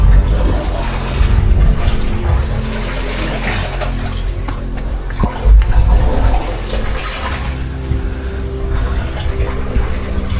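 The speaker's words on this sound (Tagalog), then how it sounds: "Pasok po yung tubig ng dagat dito" Seawater rushes and gurgles steadily into a confined hole, with surging swells and splashes throughout.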